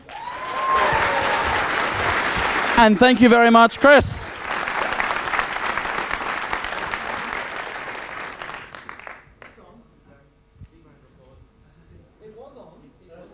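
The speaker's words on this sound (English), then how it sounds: "please give a huge round of applause to Mr." Audience applause at a conference closing rises into a loud, sustained clapping roar and then dies away, with someone speaking briefly in the middle and sparse room noise at the end.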